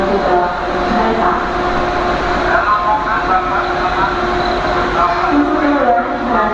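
Indonesian passenger train running on the Surabaya route, a continuous steady rumble and hum of the moving carriage with faint tonal whines, while an onboard announcement voice plays over it.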